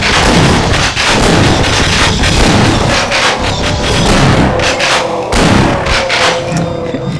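Shotgun blasts from the Half-Life video game boom in a loud, dense run of repeated heavy shots with thudding impacts, close and continuous with no talking.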